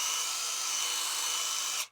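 A Parkside PTBSA 20-Li A1 20 V cordless drywall screwdriver drives a typical wood screw, giving a steady, close, high-pitched whirring buzz that holds evenly for nearly two seconds and then cuts off abruptly.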